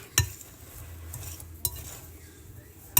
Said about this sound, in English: we're gonna kind of incorporate this ground beef with this muffin mix